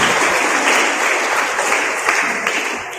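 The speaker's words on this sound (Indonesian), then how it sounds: "Tepuk tangan untuk kita semua." High school students fill a hall with loud, dense clapping at a traffic safety talk, a continuous close burst of applause with no voices over it.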